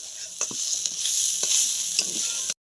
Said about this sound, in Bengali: কলার মোচা চিংড়ি মাছ রসুন দিয়ে ভাজা কমপ্লিট